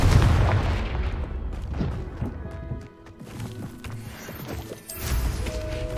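A fiery Confringo spell blast in the game Hogwarts Legacy, heavy booming impacts and rumbling crashes layered with clattering game effects. The blasts are loud and close, with a brief dip before they pick up again.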